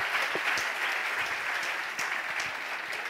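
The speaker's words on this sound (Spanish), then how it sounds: "Un aplauso al Señor, Sebas." A church congregation applauds at a Spanish-language service: steady, dense clapping from many hands that fills the room continuously for about three seconds.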